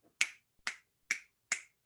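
Four sharp finger snaps, evenly spaced about half a second apart, crisp and close against near silence.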